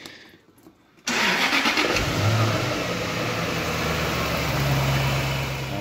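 A Jaguar S-Type R car engine cranks and catches with a sudden loud burst, then settles into a steady, close idle.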